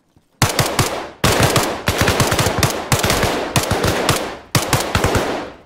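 Bursts of rapid automatic gunfire in the Arma Reforger DayZ mod, loud and close, coming in six separate volleys of quick rattling shots with brief gaps between them and no talking.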